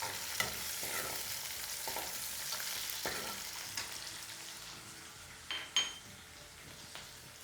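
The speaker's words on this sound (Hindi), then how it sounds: "ये प्याज भुनी जगह और हरी मिर्ची डाल लो, इन्हें भी 1 सेकंड में भूनवा दो" Onion and green chillies frying in a pan for a heritage dish, a soft, steady sizzle heard at low level with occasional light clinks and stirring knocks.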